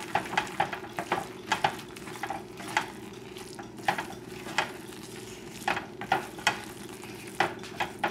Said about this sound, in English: So I am adding the basil and the parsley now.